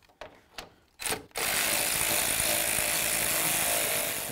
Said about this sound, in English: to remove all the mounting bolts